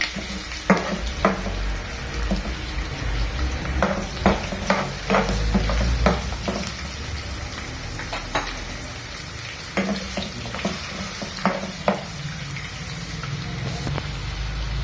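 Potatoes fry with curry leaves in a pan, giving a steady sizzle broken by repeated clacks of a spoon stirring.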